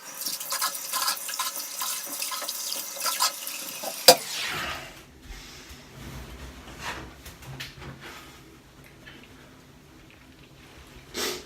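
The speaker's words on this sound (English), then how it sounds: "so I'm going to rinse that off" Water splashes and runs from a tap as pre-shave is rinsed off a face, with a few seconds of busy splashing, a sharp knock, then quieter intermittent trickling and drips close by.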